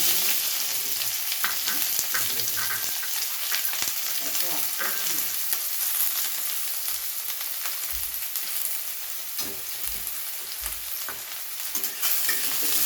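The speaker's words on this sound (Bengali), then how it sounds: "দিয়ে দিচ্ছি কয়েক কোয়া রসুন, তারপর দিয়ে দিচ্ছি পেঁয়াজ" Garlic cloves and onion fry in hot oil for a rohu fish curry masala, giving a constant loud sizzle with brief stirring scrapes throughout.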